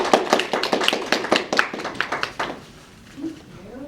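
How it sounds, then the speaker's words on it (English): Applause from a small audience at a student optometry group meeting welcoming a guest speaker, close, crisp individual claps in a steady patter that thins out and stops, followed by a brief murmur. "So let's go ahead and give her a round of applause."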